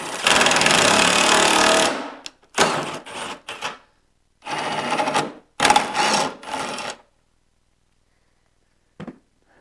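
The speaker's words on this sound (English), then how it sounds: "we're going to compress this rivet nut" Rivet nut tool compressing a rivet nut for a removable snowflap, a series of short mechanical grinding bursts in uneven rhythm, close and fairly loud, ending with a faint click after silence.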